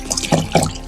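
Eggplants are washed in water, giving a brief close splash and slosh of two quick pours.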